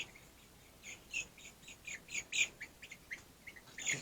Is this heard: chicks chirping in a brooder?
yes